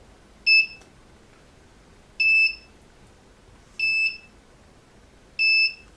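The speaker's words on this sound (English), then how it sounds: "So that's the buzzer." A Hobby King battery monitor signalling low battery: four short, identical high-pitched electronic beeps spaced evenly about every second and a half, fairly quiet against a faint hiss with no talking.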